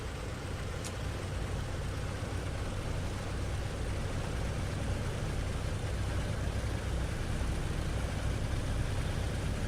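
A simulated DC-6 piston engine runs steadily in Microsoft Flight Simulator, a dense continuous drone with low rumble and broadband roar, even and unbroken throughout, alone with no talk.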